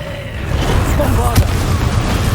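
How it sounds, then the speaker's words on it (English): A Confringo fiery blast spell from Hogwarts Legacy: a deep booming rumble sustains throughout, with one sharp crack of impact partway through over continuous low battle noise. "Confringo!"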